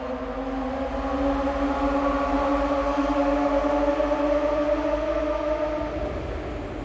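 A loud, sustained engine roar with a droning tonal hum passes close by, holding steady for several seconds before easing slightly.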